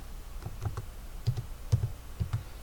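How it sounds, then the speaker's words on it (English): Fingers type on a computer keyboard, giving about eight soft, dull keystrokes in small uneven clusters. The taps are quiet and close, with no talking. "Press your tab key, type date squares."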